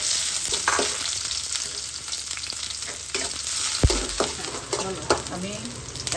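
Fenugreek seeds and onion fry in hot oil for a Bengali snakehead fish bhuna, a loud continuous sizzle up close with clattering spatula stirs and scrapes, no talking.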